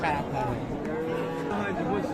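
Cattle at a livestock market, with young bulls and heifers for sale, mooing in a loud, drawn-out low call close by, a steady lowing voice filling the short moment with market noise beneath.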